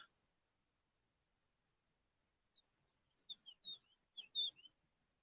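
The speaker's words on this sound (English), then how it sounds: "Hear them birds." Several birds chirp and tweet outdoors in short, bright calls clustered toward the end, fairly faint and distant after a quiet start, with no talking.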